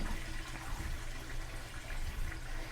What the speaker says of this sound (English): Listen to the flush.